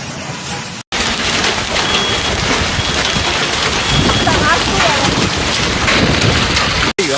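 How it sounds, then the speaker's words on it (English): Violent hailstorm in Gu'an County, Hebei: a dense, loud, continuous roar of hail and rain pounding surfaces, steady for several seconds, with brief gaps near the start and end and faint voices mixed into the din. "hailstorm"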